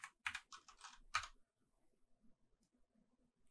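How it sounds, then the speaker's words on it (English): Quick bursts of clicking keystrokes on a computer keyboard while entering code in RStudio, close and fairly quiet, followed by near silence with faint background noise. "To view the data, we type view open parentheses"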